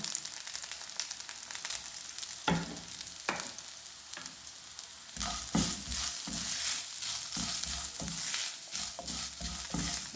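Shallots and grated coconut roast in oil for a Kerala sambar, giving a steady sizzling hiss with spoon scrapes and stirring knocks that grow louder and busier in the second half, with no talking.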